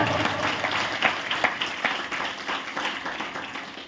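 A church congregation in Bidar claps hands together in a steady, repeated rhythm, a dense wash of many hands with regular accented beats and voices mixed in underneath.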